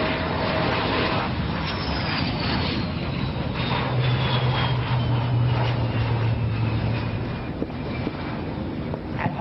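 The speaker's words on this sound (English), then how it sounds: "The Tejas is designed as a single-engine, multi-role combat aircraft." A Tejas single-engine multi-role combat aircraft flies past at an Indian Air Force Day display, a sustained loud jet roar with a slowly sweeping whine, heard without talk.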